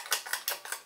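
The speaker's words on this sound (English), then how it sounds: "That sound was a light bulb." A light bulb rattles inside a wobbling 52-inch Moss Heirloom HF-100 ceiling fan running on medium, giving four sharp, light clinks spaced about a fifth of a second apart, close and clear.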